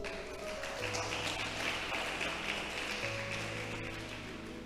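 Sustained applause from a church congregation fills the space, steady and dense, with faint tonal background music underneath.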